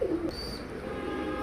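A silver pigeon gives a single low coo up close, followed by soft background rustle.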